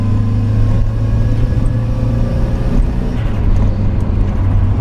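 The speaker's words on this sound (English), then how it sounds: "Fourth gear, 45 miles an hour going up the hill. Put your foot down." A turbocharged Mazda MX5 Miata pulls uphill in fourth gear at about 45 mph, its engine droning loud and steady from inside the cabin with constant road roar and no break.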